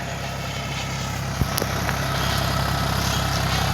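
A tractor engine idles on a farm field, a steady low rumble that holds constant throughout, with a faint click or two over it and no talk.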